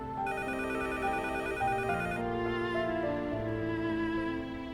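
A telephone rings in a busy restaurant serving desi cuisine, its repeated electronic ring steady and fairly loud over a dense bed of tonal background music, with no one speaking.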